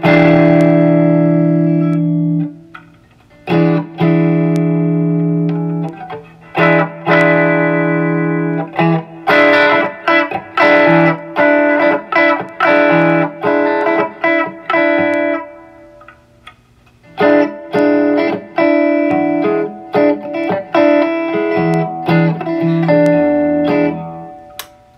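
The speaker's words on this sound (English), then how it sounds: "I'll hit a couple of hard chords here." Hard electric guitar chords ring through a small Bugera V5 tube practice amp, loud and full, struck in repeated bursts with some sustained ringing and breakup, no voices.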